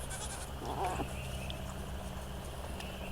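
Goats bleating on a farm, a close bleat rising briefly over a steady low hum of outdoor background.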